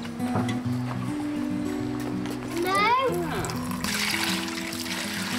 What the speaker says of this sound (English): The water's coming through there.